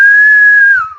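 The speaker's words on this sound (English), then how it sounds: "maybe you can learn how to whistle by making wind with your mouth" A single steady, clear mouth whistle holds one high pitch and then slides down at the end, loud and close with nothing else around it.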